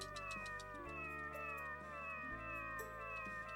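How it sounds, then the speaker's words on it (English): Synthesized cat meow from the Tales of the Abyss video game, a clear plaintive call over steady looping game music with sustained tones, heard alone without any talk. "Oh, a cat."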